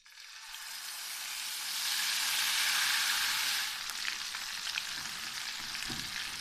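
Mutton drops into hot oil with black pepper and small cardamom and sizzles loudly, a dense steady frying hiss that swells, then eases slightly with faint stirring clicks, close by and without speech.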